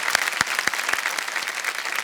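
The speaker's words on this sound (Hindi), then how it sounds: "मैं और मेरे ऑडियंस आपको तालियों से एक सलामी देना चाहते हैं।" Studio audience clapping on a talk show, a dense burst of steady applause from a crowd, with individual sharp claps standing out close by.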